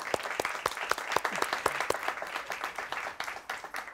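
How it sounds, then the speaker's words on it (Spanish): Strong audience applause for mothers at a family Sunday gathering, many hands clapping with distinct sharp claps standing out in an irregular rhythm, fairly close and loud. "Un aplauso fuerte para esas madres."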